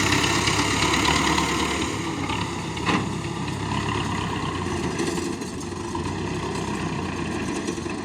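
T-40 tractor engine running steadily, a loud, close low rumble that holds throughout, with a brief knock near the middle and a slight drop in level later, no voices.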